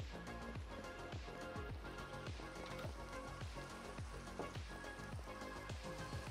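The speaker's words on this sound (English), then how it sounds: "Better stay inside today, it's raining." Rain falling in Minecraft, a soft, continuous patter of drops with a faint ambient tone beneath, quiet and even throughout.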